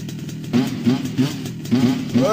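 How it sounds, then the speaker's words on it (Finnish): Small moped engine revving hard in short bursts, with crackling exhaust pops between throttle blips, close and loud. "Vittu, että sulla paukkuu pakaan."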